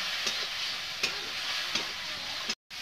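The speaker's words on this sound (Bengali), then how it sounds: "আর মশলা একদম ভালোভাবে ভাজা গেছে, তেল ছাড়ছে।" Masala frying in oil for a potato curry, a soft steady sizzle with a few light stirring taps, close and fairly quiet, cutting off briefly near the end.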